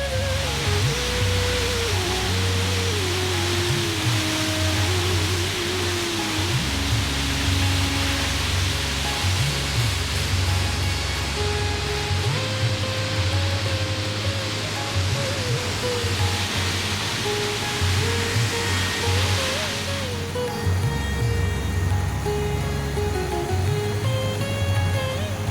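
The Bhagirathi river rushes past Maneri Dam near Uttarkashi, a loud continuous roar of water with steady tonal hums and engine-like drones running through it.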